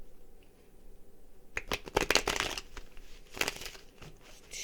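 A deck of cards is riffle-shuffled close by in quick crisp bursts after a quiet start, the fluttering snaps coming in a few rapid clusters.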